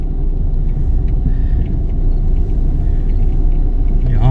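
A car travels steadily down a road without stopping, giving a loud, unbroken low engine and road rumble close by the whole time, with no voices.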